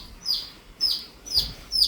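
Chicks peeping in short bursts, roughly four high chirping calls spaced evenly, near and moderately loud with little else around.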